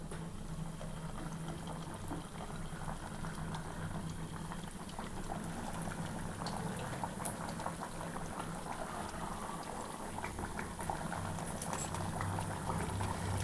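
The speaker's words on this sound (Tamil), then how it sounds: "எண்ணெயில் போட்டு எடுத்துக்கலாங்க" Salt biscuit dough for a tea-shop style snack frying in hot oil heated on a gas stove, a steady dense bubbling and crackling that carries on close and continuous with no talk.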